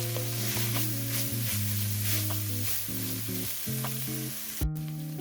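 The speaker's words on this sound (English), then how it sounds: "I'm gonna give this all a good stir" Lasagna soup stirred in a pot, a soft close sizzle and frying hiss running steadily with gentle scraping of the spoon, no voices.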